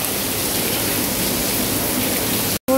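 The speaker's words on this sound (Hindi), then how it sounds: "बहुत तेज धुएंदार बारिश शुरू हो गई है यहाँ पर जी," Heavy rain pours down steadily in a dense, continuous broadband wash, loud and close throughout, with a brief dropout near the end and no talking.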